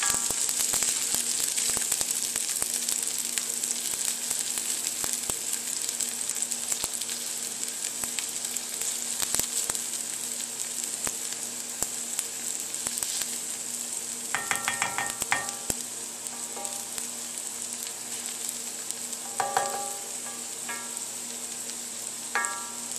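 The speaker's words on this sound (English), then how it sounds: "the onions we'll let cook for a few minutes, like 3 minutes or so" Onions cooking in duck fat in a pan give off a continuous, even sizzle. A few light utensil clinks come through partway, and nobody speaks.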